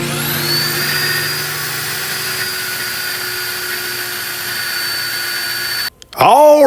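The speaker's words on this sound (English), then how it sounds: "If you need to drill holes inside frame rails, it'll get right in there and get the job done." A high-pitched right-angle drill whirs steadily and loudly for several seconds while drilling inside a truck frame rail, then cuts off abruptly, followed by a brief squealing, warbling noise.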